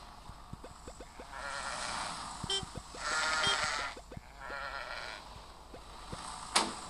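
Several sheep bleats rise over a soft ambient backdrop and light tapping in the video game Crossy Road, moderately close, with no one speaking.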